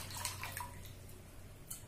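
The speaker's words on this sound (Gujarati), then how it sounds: "હવે આપણે આ તપેલીમાં 3 મગ પાણી ભરીશું" Water poured from a mug into a cooking pot makes faint splashing and trickling in a few soft bursts, heard quietly and alone.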